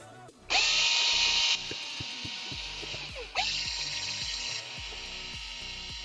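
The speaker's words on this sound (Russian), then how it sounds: "Тоже откручиваем. Откручиваем и прикрутим так, как нам надо." Power screwdriver unscrewing screws from an Injora Cherokee 1/10 scale RC truck body shell, two loud whirring bursts of drilling with clicks and handling noise between, no talking.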